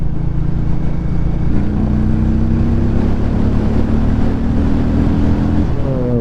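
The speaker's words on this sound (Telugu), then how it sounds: "బైక్ ఎగ్జాస్ట్ కూడా బాగుంది" A Hero Mavrick 440 motorcycle exhaust rumbles loudly and steadily up close, its low droning tone shifting slightly in pitch partway through.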